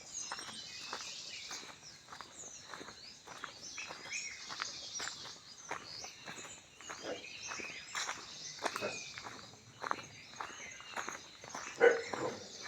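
Steady, regular footsteps crunch along a dry village path, with faint birds and insects chirping in the background.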